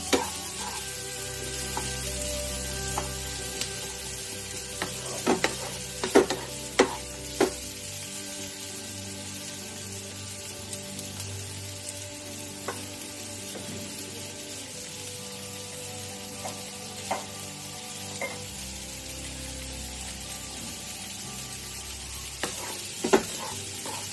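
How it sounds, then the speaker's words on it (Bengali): Onions frying in a pan for prawn dopiaza give a steady, close sizzle that runs throughout, with occasional clinks and scrapes from stirring. "এটা একটু ভাজতে হবে, বেশ খানিকটা নরম না হওয়া অবধি।"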